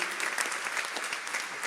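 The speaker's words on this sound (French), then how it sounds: "on peut bien les applaudir" A steady wash of audience applause from a studio gathering on a Catholic radio programme, dense even clapping held at moderate loudness for a couple of seconds.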